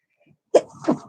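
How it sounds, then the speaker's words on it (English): A single close, loud human sneeze, sharp burst followed by a brief trailing exhale, in a quiet indoor room thick with straw dust. "I've got sneezes coming"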